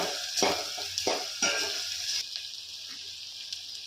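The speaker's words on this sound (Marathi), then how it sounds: "याचा कच्चेपणा जावा मिरचीचा म्हणूनही मी तेलावर फ्राय करून घेत आहे" Green chilies fry in oil in a pan for a dill-greens bhaji, giving a close, steady sizzle broken by a few sharp stirring scrapes and spatters, with no voices.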